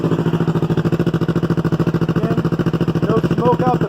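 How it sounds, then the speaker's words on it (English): A loud race motorcycle engine idles close by with a steady, fast pulsing throb, and a few faint chirps are heard near the end. "I have a race bike. Race bikes are loud."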